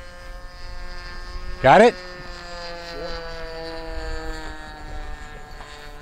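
A radio-controlled Avistar model airplane flies overhead with a steady, even motor drone that holds throughout, while people talk nearby.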